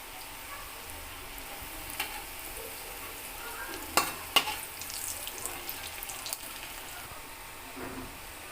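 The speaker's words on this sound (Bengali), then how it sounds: "আমি আর একটা দিক একটু ভাজবো।" Fish roe fritters frying in hot oil, a steady soft sizzle running throughout with a few sharper crackles and pops near the middle, close by and with no talk.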